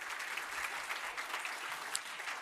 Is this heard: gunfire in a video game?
no